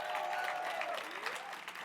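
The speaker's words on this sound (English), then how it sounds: "Give them another round of applause." Audience applause at a summit plenary, a short burst of steady clapping from a crowd with a faint whistle, loud and continuous throughout.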